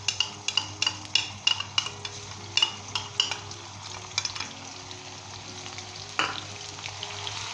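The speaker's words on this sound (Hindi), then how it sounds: "अदरक लहसुन का जो पेस्ट है ये डालेंगे" Ginger garlic paste frying in hot oil for green chilli chicken, a soft steady sizzle broken by sharp clinks of a spoon stirring against the pan, close and without talk.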